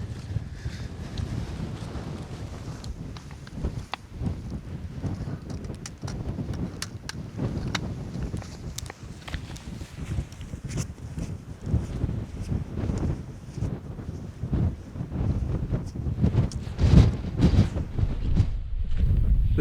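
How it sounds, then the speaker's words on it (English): Strong wind on a remote Cairngorms Munro summit roars into the microphone as a steady low rumble, swelling in loud gusts throughout with no voices. "It's just too windy."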